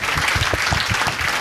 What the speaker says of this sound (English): Let's please give them a big round of applause.